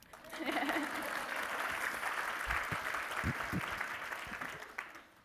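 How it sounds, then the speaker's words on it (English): Audience applause at a panel session, a sustained round of clapping from a modest crowd lasting several seconds before fading out, with a few louder nearby claps and no talk. "Yeah, clap."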